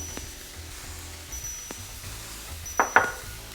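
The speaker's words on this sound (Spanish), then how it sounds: "Ahora voy a agregar mis pimentones y la cebolla" Bell peppers tossed into a frying pan for homemade Chinese fried rice, a soft continuous sizzle with a few sharp clinks of utensil against pan near the end.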